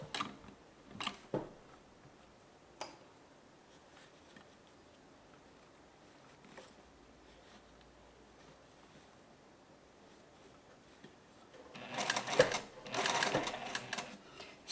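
A sewing machine stitches a jacket's upper collar in short runs: a few brief bursts early, then near-silence, and a louder, sustained run of rapid stitching near the end.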